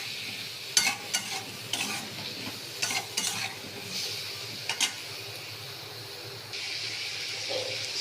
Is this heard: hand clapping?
no